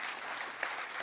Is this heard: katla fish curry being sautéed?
no